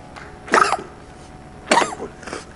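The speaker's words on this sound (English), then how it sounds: "I like to cough." A preacher at a church service coughs twice, two sharp, close bursts about a second apart, with quiet room tone between them.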